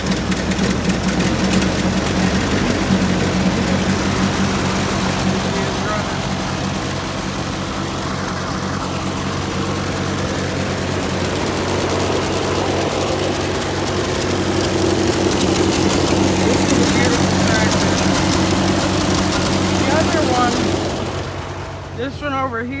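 A 12-volt Ford 8N tractor with a new exhaust runs loud and steady nearby as its choke is slowly pushed in, a continuous low engine drone that holds throughout before cutting away at the end.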